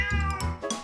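Three-year-old domestic cat, a Persian cross that breeds often, giving a short series of close, clear meows in quick succession, with no other sound.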